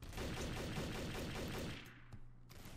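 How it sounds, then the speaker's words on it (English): Sustained rapid gunfire in Garry's Mod Trouble in Terrorist Town, a dense automatic burst for nearly two seconds, then a couple of isolated shots after a short pause, with no talk. "Why is everyone shooting at me?"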